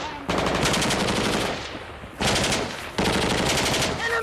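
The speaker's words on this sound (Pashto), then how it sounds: "ډزې لا روانې دي، نو باید خپلې کامرې برابرې کړو" Close, loud machine-gun fire in combat in Afghanistan rattles in three long sustained bursts with short pauses between them.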